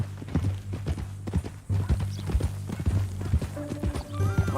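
Horse hooves clip-clop steadily on the ground in the Red Dead Redemption 2 video game, a continuous walking rhythm of soft thuds, with a brief whinny-like tone near the end.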